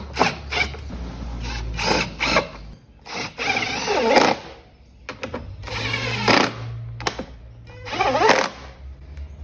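A 10mm ratchet spanner tightens bolts on a Victa two-stroke lawnmower's pull start, bursts of rapid ratcheting clicks alternating with short pauses, close and fairly loud, with no speech over them.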